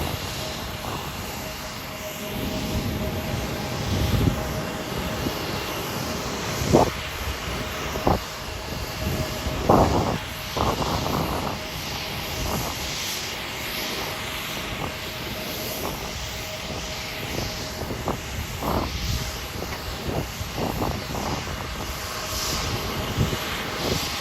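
An Alaska SkyWest airliner taxis toward the runway at Hollywood Burbank Airport, its steady engine drone running low and continuous throughout, broken by a few brief clicks and knocks.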